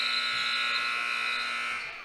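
A basketball game buzzer sounds at the end of the half during a varsity high school game in a gym, one loud sustained electronic tone holding steady for about two seconds before starting to fade.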